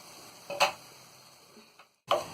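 Eggplant roasting in a pan for baingan bharta, a quiet low sizzle broken by two short scraping stirs, no talk.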